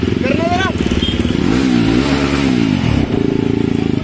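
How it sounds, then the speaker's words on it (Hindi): Revving motorcycle engine, a bike compared against Jawa and Duke models at a public gathering, rising and falling in pitch through the middle, loud and close under continuous crowd chatter. "लो देखो साउंड सुन लो इनकी बाइक का"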